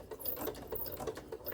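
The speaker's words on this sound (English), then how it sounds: "and I'm going to back stitch." A sewing machine back stitches an oven mitt with a quiet, rapid, even rattle of needle strokes heard close up, alone and without voices.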